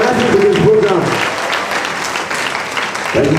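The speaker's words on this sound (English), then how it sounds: "Give Dr. Maruf Oladimeji a good round of applause for organizing today's program." A university audience gives a round of applause for the Dean of Student Affairs at a freshman admission ceremony. The clapping is loud and steady, with a voice briefly heard over it.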